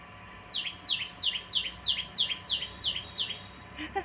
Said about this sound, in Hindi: कोयल की या चिड़िया की किसकी आवाज़ आ रही है।